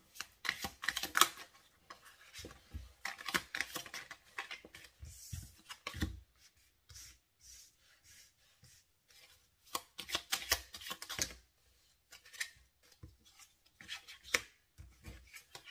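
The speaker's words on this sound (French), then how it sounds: "Donc voilà, je vais tirer 5 cartes." Five tarot cards are drawn and handled at close range, giving quiet, irregular bursts of shuffling, sliding and tapping card sounds with short pauses between them. No speech can be heard.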